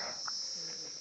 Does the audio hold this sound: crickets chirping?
yes